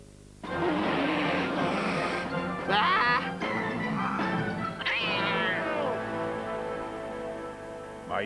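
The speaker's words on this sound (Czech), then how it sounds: "Mají tady kočku." A cat in an animated rabbit film meows and caterwauls loudly and repeatedly, with close, drawn-out yowls running for about eight seconds.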